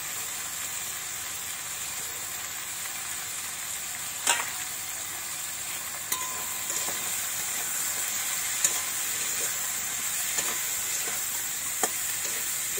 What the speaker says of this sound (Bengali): এই সবজিগুলো একটু ভাজা ভাজা করে নেব